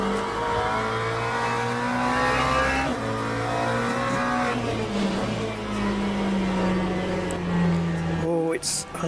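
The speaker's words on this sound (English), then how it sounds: "Have to come down to second here, just for a bit of mechanical braking." Race car in the video game Le Mans Ultimate downshifting to second gear: a loud engine note stepping down through revs with blips, then rising again, with a brief tire squeal and someone talking over it.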